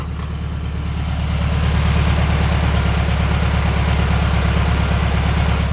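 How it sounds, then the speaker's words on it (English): A 1972 Volkswagen Super Beetle convertible with an air-cooled engine idles steadily close by, giving a low, even, rhythmic thrum at a loud level with no talking. "The engine runs perfect."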